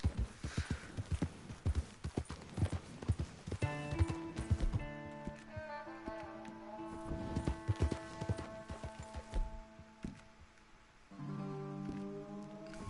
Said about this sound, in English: Might need to feed my horse